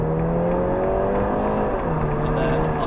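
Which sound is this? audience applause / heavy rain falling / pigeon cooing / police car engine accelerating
police car engine accelerating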